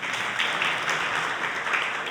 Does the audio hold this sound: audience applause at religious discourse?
yes